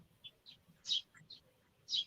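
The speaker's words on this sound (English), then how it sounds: "Let me know if the birds are too loud." Small birds chirp outside in short, bright tweets scattered irregularly across the clip, several louder calls standing out among fainter ones, heard from some distance indoors over a low background murmur.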